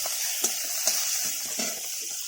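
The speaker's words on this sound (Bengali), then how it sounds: "কুচো কুচো ক্যাপসিকাম দিয়ে দিলাম" Steady sizzle of chopped capsicum frying in hot oil, with a few soft clinks of a spatula against the pan.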